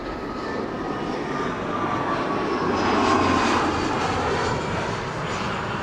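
A fixed-wing airliner arriving on the runway at Amsterdam Schiphol Airport makes a steady, loud engine roar with a whining tone, swelling slightly midway before it holds on through the end.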